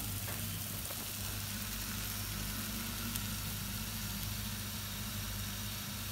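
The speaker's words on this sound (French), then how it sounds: "Et je vais la faire cuire comme ça." Socca batter frying in olive oil in a pan, a steady, even sizzle with a low hum underneath, constant and unbroken throughout.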